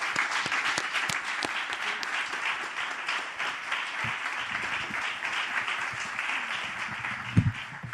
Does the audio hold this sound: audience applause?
yes